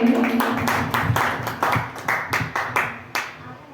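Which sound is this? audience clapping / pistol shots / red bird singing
audience clapping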